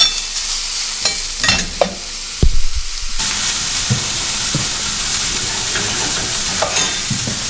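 Sliced mushrooms fry in a hot pan, a steady close sizzle with bursts of stirring and a few sharp utensil clacks against the pan, no voices.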